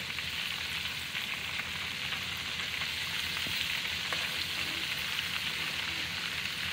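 Pieces of swamp rabbit frying in a pan of hot oil for smothered fried rabbit with gravy and onions, a steady, close sizzle and crackle throughout without any voices.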